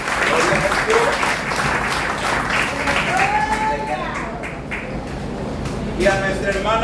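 A church congregation claps together during a Spanish-language Sunday service, a steady wash of applause under someone speaking and praising God over it throughout.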